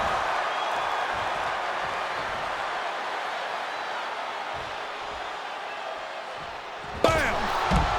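Wrestling action in WWE 2K26, a single sharp slam impact landing near the end over a steady roar of arena crowd noise.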